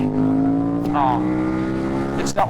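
A 2008 KTM 990 Super Duke motorcycle with an Akrapovic exhaust gives a loud, close engine drone with a strong tonal note that holds steady and then shifts in pitch near the end.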